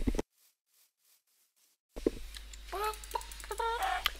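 Minecraft chickens clucking, a run of short, close, chirpy clucks and squawks in quick irregular succession after a brief near-silent gap at the start.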